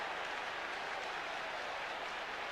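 A football crowd at a Nottingham Forest match applauds Neil Webb after his chance to get a cross in, a dense, even roar of clapping and crowd noise that stays at a steady level for a couple of seconds.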